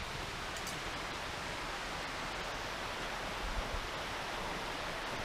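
A creek flowing steadily at a riverside campsite, a dense, continuous rushing wash of water that stays even and fairly close throughout, with no voices.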